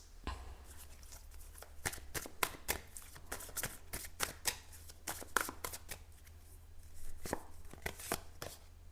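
Tarot cards shuffled and drawn in a quiet room, soft riffling flicks and sharp slaps coming in uneven bursts, close and fairly faint.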